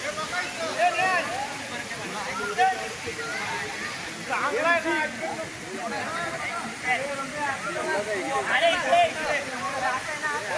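Garambi waterfall in Konkan near Murud Janjira, a steady broad rush of falling water filling the scene throughout, with someone talking over it.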